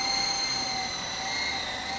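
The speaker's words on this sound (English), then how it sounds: "This one is what they call a counter-rotating coaxial helicopter" An E-Sky Lama V4 counter-rotating coaxial RC helicopter flies nearby, its electric motors and twin rotors giving a steady high-pitched whine with a constant buzzing drone, loud and unbroken, with no talking.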